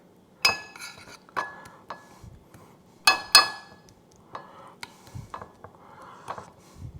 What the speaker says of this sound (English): I'm going to start to stir that up a little bit, let it emulsify